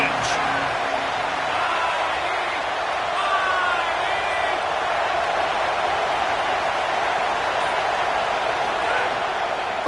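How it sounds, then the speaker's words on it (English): A college football stadium crowd at Nebraska versus Pittsburgh roars steadily during a third-down play in the red zone, a dense, continuous wall of cheering and noise with faint whistles. "this crowd is at fever pitch"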